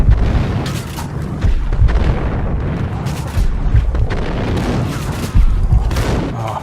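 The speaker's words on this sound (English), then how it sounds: "Grenades are not to be underestimated in this game." Deep booming blasts from grenade explosions in the video game Max Payne rumble loud and close, with rolling low-end impacts and scattered gunfire throughout.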